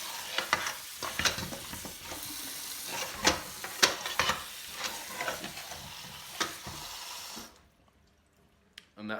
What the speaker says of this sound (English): washing the potatoes